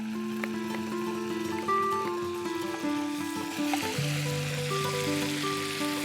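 Marinated salmon sizzling in melted butter in a pan, a soft steady fry with faint bubbling and a few light knocks, close and without talk, under a continuous background music bed.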